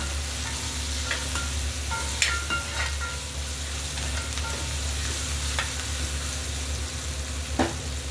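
Chana dal and tomato curry fries with salt in a pan, a steady close sizzle with scattered spoon scrapes and taps across the stretch, and no speech.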